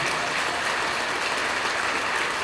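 Audience clapping at a speech event, a dense, continuous wash of many hands applauding, steady and loud throughout with no pauses or voices.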